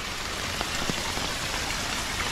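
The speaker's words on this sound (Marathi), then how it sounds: "सकाळपासून खूप पाऊस पडतोय" Heavy rain falls steadily in a village setting, a dense continuous hiss of drops on surfaces with a few sharper splashes, close and constant with no voices.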